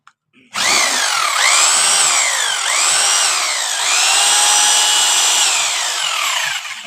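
A repaired electric hammer drill runs steadily after a brief start-up click, a loud close motor whine with a dense rotating buzz that wavers slightly in pitch over several seconds, no voices.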